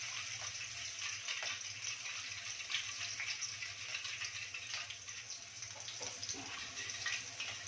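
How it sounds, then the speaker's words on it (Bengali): Sugar water pours into a hot dhokla tempering of mustard seeds, curry leaves and green chillies, a quiet steady hiss and watery rush with faint bubbling over a low hum, no voices. "এখন এই চিনির জলটাও দিয়ে দিচ্ছি।"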